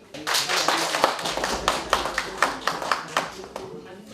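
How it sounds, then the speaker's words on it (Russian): An audience claps at an awards ceremony in a hall, distinct individual claps standing out in an uneven rhythm while an announcer's voice continues over the clapping. "Хлопайте своим коллегам."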